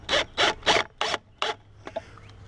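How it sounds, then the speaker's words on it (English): A power drill drives a screw into a Yakima SpareTime rack during a repair, sounding as five short, evenly spaced whirring bursts up close, followed by a few faint clicks and quieter handling noise. "we're gonna run the screw in"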